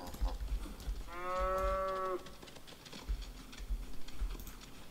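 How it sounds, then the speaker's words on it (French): A single drawn-out cow moo, about a second long, rises from a game's farm during milking in Project Zomboid, clear over faint ticking and low background noise. "je passe vraiment la journée à traire des vaches en fait"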